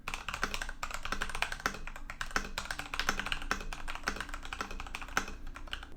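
Typing on a stock Epomaker TH80 mechanical keyboard: fast, fairly even key clacks in continuous bursts, close and clear with no voices.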